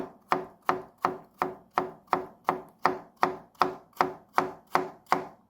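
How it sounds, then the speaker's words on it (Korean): A knife chops zucchini into thin strips on a cutting board for potato pancakes, about a dozen crisp, evenly spaced strokes in a steady rhythm, close and clear with no talking. "호박을 얇게 썰어서 얇게 채 썰어요"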